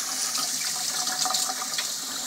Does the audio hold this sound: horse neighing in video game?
no